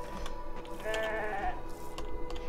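A sheep bleats in the video game Beyond Two Souls, a short wavering call set against faint background game ambience.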